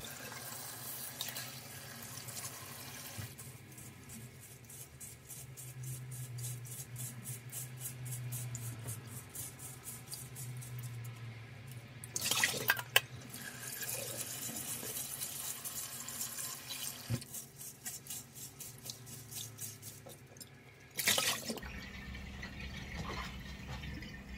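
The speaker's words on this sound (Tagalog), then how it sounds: "Hugasan ng bulgur." Tap water runs steadily over bulgur being washed in a sink, a continuous close hiss broken by a couple of louder splashy surges as the grain is stirred and rinsed.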